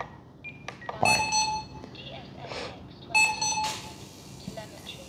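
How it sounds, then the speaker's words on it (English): A Blade Eclipse 360 radio-controlled helicopter transmitter beeps during radio setup with a few short electronic tones in two clusters, heard close and moderately loud over faint room noise. "That sounded cool, all the beeping."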